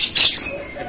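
A racing pigeon at a pigeon gathering in Pekalongan gives a short, loud squawking call, close by, over in under a second.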